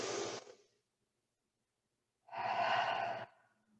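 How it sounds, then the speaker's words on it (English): Two slow, deep breaths during a yoga session, a soft airy inhale followed after a pause by a longer, fuller exhale, close and quiet with no talking. "Take another deep breath."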